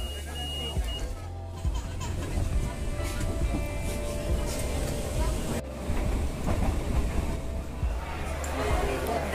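A DART commuter train in Dublin rumbles steadily from inside the carriage, a loud continuous low drone with rail noise throughout and brief gaps; no talk is evident.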